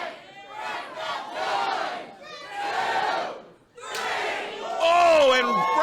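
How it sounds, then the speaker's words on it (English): Crowd at a slap fighting championship yelling and cheering in loud surging waves, with excited shouts rising near the end. "The crowd is going wild."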